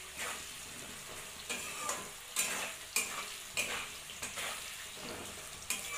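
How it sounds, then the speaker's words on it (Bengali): Potatoes with turmeric and salt frying in a pan, a steady soft sizzle broken by periodic scraping stirs of the spatula, fairly quiet and close with no voices. "দিয়ে আলুটাকে ফ্রাই করবো ভালো করে।"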